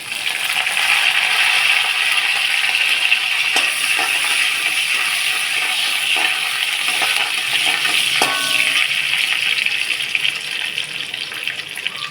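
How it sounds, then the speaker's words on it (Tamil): Mustard seeds, urad dal and curry leaves fry in hot oil for a plantain curry, making a loud, steady, dense sizzle with faint scattered clicks that lasts throughout with no talking. "எண்ணெய் வச்சுட்டு கடுகு போடணும். உளுத்தம்பருப்பு போடுவோம். இந்த கருவேப்பிலை போடுவோம்."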